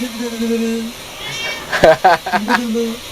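A pet cat meows several times up close, with short, clear cries at the start and end and someone speaking Thai in between.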